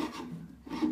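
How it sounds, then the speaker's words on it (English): A chisel scraping loose paint off old wood makes two close, dry rasping strokes with a short pause between them, no voices. "the first thing I'm going to do is I'm going to remove any loose paint"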